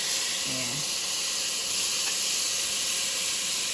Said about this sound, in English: And we just stir that around, saute them.